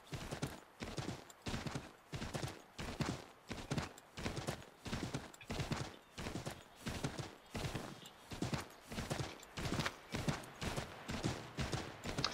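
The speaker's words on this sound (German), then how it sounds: "Da haben wir doch ein Pferd." Horse hooves clip-clopping in the video game Assassin's Creed III, a close, steady rhythmic run of hoofbeats repeating evenly throughout, with no talk over them.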